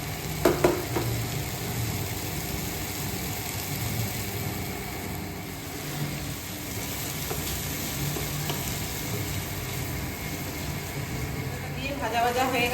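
Spices with salt frying in a pan for paneer bhujia, giving a steady low sizzle with occasional scraping stirs, faint and continuous, with a louder stir near the end.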